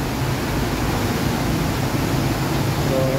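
Rushing creek water, swollen after an abrupt heavy rain, pours in a loud continuous roar close by, a constant churning wash with a faint brief whistle-like tone near the end and no voices.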